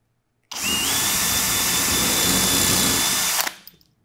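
A power drill bores a countersunk pilot hole, whining loud and steady for about three seconds, then stopping abruptly and spinning down.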